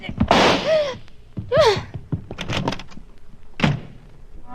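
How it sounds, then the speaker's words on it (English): A door slams shut in an old radio drama scene, a sharp thunk followed by brief gasps and voice-like sounds, loud and close amid the dramatic action. "the slam of the door, Miss Loring was gone"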